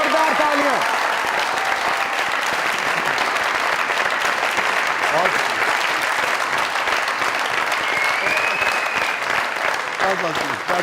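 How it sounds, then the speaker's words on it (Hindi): Loud, sustained applause from a studio audience at a comedy talk show, a thick, even roar of many hands clapping without pause, with faint voices mixed in underneath. "जोरदार तालियां"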